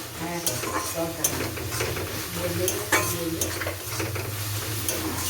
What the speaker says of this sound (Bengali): ধনিয়া পাতা দেওয়ার পরে আমি এটাকে ভালো করে মিশিয়ে নেব নাড়াচাড়া করে তরকা মশলা